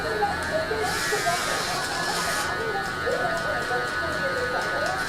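Electric hair clippers fitted with a number 2 guard cut hair during a mid fade, giving a steady, close electric buzz that runs throughout.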